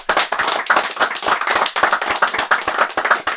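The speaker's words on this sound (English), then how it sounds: "Let's give them a round of applause." A small group claps in a quick, even round of applause, sharp close hand claps repeating for a few seconds with no talking.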